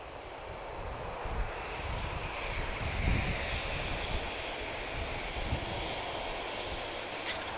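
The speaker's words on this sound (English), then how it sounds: "So we have two United aircraft on the ground at the same time." A United aircraft at Lisbon Airport, its jet engines roaring in a loud, steady broadband rumble with wind noise, sustained throughout without speech.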